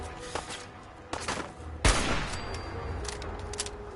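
A rapid burst of gunfire in Fallout 4 at a raider hiding in bushes, with a sharp loud shot followed by ringing rattles and scattered further reports against game ambience.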